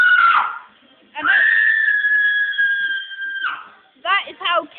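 A young girl lets out a loud, sustained high-pitched scream lasting a couple of seconds, preceded by a shorter shriek and followed by a few choppy vocal bursts, close to the listener.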